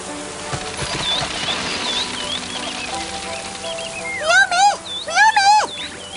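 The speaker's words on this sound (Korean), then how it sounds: "새가 지저귀는 소리가 꼭 나에게 경고를 해주는 것 같네." Birds chirp in the mountains, thin whistled calls at first, then louder rising-and-falling song phrases in two close bursts near the end over a quiet outdoor background.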